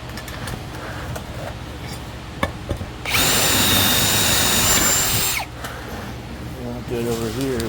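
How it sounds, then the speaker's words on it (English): A power drill with a 1/4-inch bit whines at high speed for a couple of seconds re-drilling a hole in an RV motorized foot pad, loud and close, between quieter handling noises and brief talk. "I'm going to take the 1/4-inch drill and just re-drill the hole"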